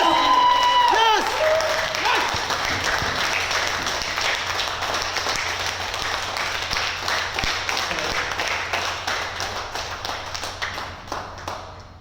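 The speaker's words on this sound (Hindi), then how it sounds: "एक बार खड़े होके हाथ ऊपर करके जोर से तालियां बजानी पड़ेगी।" An audience at a motivational talk stands with raised hands and claps loudly, sustained dense applause close by that slowly thins toward the end, with voices mixed in.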